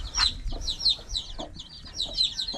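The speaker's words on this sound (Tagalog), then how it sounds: "Kailangan yatang ihiwalay ang mga sisiw." A hen and her chicks cluck and cheep on a farm, with repeated high chirps in bursts over about two and a half seconds and soft low clucks beneath them, close by, with no talking.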